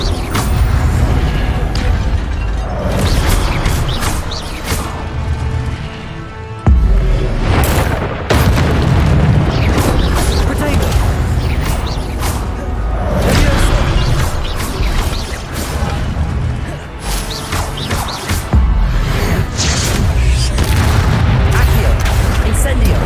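An Incendio fire spell is cast in the Hogwarts Legacy video game, producing loud, repeated booming blasts and crashing impacts that roll on over a continuous dense rumble of game effects.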